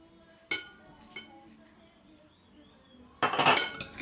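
Drained potatoes being tossed with oil and spices in a bowl, with a few sharp utensil clinks early on and a louder burst of scraping and stirring near the end.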